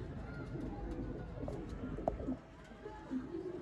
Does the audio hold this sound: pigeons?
yes